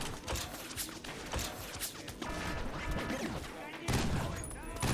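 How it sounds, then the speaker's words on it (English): Gunfire and explosions in the video game 50 Cent: Blood on the Sand, with rapid bursts of shots and heavy blasts crowding one another at moderate level under intermittent talking. "And then we have to shoot 2 explosives at the turret"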